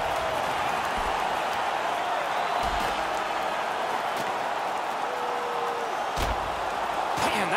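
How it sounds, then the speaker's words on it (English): A video-game arena crowd in an NHL hockey game roars steadily after a fight, a dense continuous cheer with scattered thuds and board slams, and commentary voices running over it. "You can hear the crowd."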